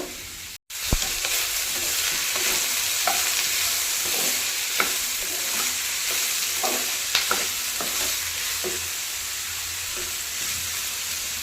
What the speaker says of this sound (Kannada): ಈರುಳ್ಳಿ ಸ್ವಲ್ಪ ಎಣ್ಣೆಯಲ್ಲೇ ಮಿಕ್ಸ್ ಆದ ತಕ್ಷಣ ಒಂದು ಟ್ವೆಂಟಿ ತರ್ಟಿ ಸೆಕೆಂಡ್ ಬಿಟ್ಟು ಅದ್ರ ಜೊತೆಗನ ಸೂರ್ಯಕಾಯಿ ಹಾಕಿ ಒಟ್ಟಿಗೆ ಎರಡನ್ನು ಹುರ್ಕೊಂಡು ಬಿಡೋಣ